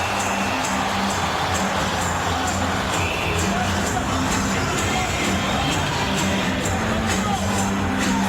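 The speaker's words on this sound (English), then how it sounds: "The crowd a buzz here now" Arena crowd at an NHL hockey game between the Ottawa Senators and Columbus Blue Jackets, a steady broad murmur of many voices with scattered shouts, continuous and fairly loud throughout.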